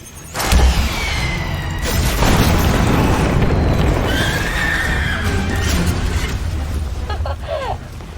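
A movie-style explosion right after a fire-in-the-hole shout in a Starship Troopers battle, opening with a deep boom and rolling on as a loud, sustained roar, with shouted voices and creature-like screeches over it.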